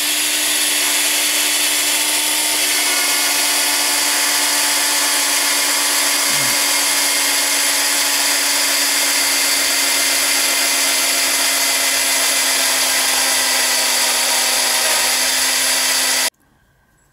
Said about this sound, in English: use a drill to drill a hole right through the middle